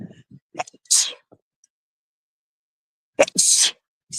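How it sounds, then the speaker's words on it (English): A person sneezes twice, with a sharp, breathy burst, a long silent gap and then a second sneeze, close and fairly loud while out on a walk. "Now I have to sneeze."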